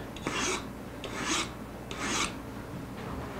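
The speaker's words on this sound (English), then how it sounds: "the saw is cutting down straight along till I hit" A hand saw cuts down through a wood block for an acoustic guitar build, in the style of a Martin 00, making three rasping push strokes at a steady rhythm, close and clear, with quiet pauses between them and no talk.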